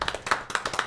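Several people clap hands in a quick, uneven burst of sharp slaps on a Martinique radio show, fairly close and clear with no talking over it.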